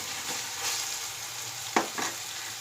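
Vegetables with green chili paste stirred in a hot pan, a soft continuous sizzle with a couple of sharp spatula scrapes near the end, close and alone.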